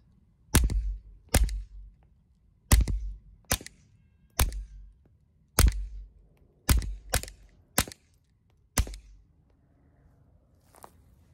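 Single gunshots from a Taurus TX-22 Competition .22 pistol, about ten sharp, evenly spaced reports at close range with silence between them.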